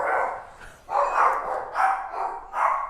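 Dogs bark in a run of four loud, close barks, with short pauses between them and no talk over them.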